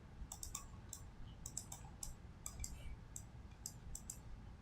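Quick bursts of computer keyboard keystrokes while typing into TradingView, crisp clicking taps in uneven clusters, fairly close over a low background hum, no voice.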